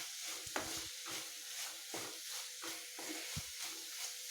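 Bitter gourd stirred through a jaggery gravy in a pan, a steady low sizzle with soft repeated scraping and knocking of the spoon at an even rhythm, fairly quiet and close.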